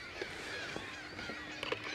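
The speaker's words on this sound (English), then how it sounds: "It's kind of a nice setting with all the gallery of birds that we have here, Bill." Geese honking amid a gallery of birds along Lake Erie, heard from a fishing boat; a few short, faint calls rise briefly over steady outdoor background noise.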